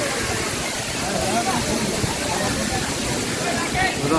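Fast-flowing water at Anayadikuthu waterfall in Idukki rushes with a strong current in a continuous, loud, hissing roar, while a voice talks over it.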